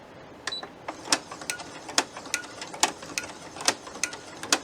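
A Brother sewing machine fitted with a ruffler foot runs at its slowest speed, giving a steady series of sharp mechanical clicks and clacks about every half second, close and fairly quiet, with no talking.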